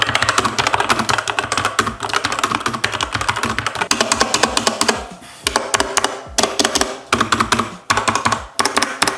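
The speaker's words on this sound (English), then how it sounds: "here is the sound test of this gaming keyboard. I believe it has like red switches" Continuous typing on a used gaming keyboard with red switches, rapid uneven keystrokes clattering close up, with a few short pauses and bursts of quicker taps, no voices.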